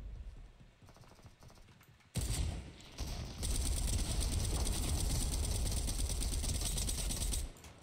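Assault rifle fire in Fortnite starts abruptly after a quiet lead-in, then runs as a loud, sustained rapid-fire stream for several seconds before cutting off.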